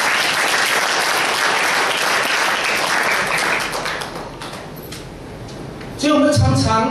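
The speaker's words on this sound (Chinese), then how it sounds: "好，再次拍手我们上帝。" A church congregation breaks into sustained, dense applause that fills the space for several seconds, thinning slightly toward the end before a brief burst of voices.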